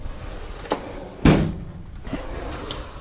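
A US General tool chest drawer is handled, with a faint knock near the start and one sharp, loud slide-and-bang as it is pushed shut in the middle, followed by quieter rattling and a light tap near the end.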